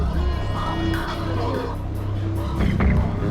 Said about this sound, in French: T'as vu la bagnole qui vient de passer?